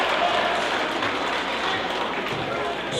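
A basketball team's bench stands and applauds a player heading off, a dense, even patter of clapping over crowd noise for a few seconds, with talk mixed in.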